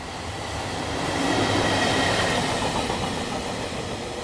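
A train of sealed cattle cars rolling on rails at Treblinka, a loud, steady broadband rumble that swells toward the middle and eases slightly near the end, with no voices.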